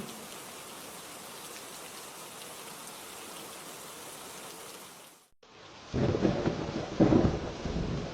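Steady hissing rain in a cartoon scene cuts off briefly, then returns as a heavier, louder downpour with deep thunder rumbling through the last few seconds.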